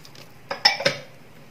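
Mustard seeds for homemade pickle masala drop into a pan, giving a quick cluster of two or three light metallic clinks and rattles near the middle, close but soft against a quiet background.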